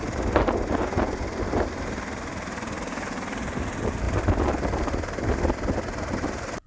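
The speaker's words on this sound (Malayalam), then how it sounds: "അതിലൊരു ഹെലികോപ്റ്റർ വന്നിറങ്ങുന്ന കാഴ്ചയാണിത്." A helicopter comes down to land at a film shooting location in Palakkad, its rotor giving a continuous heavy thumping roar mixed with wind buffeting, loud and steady throughout.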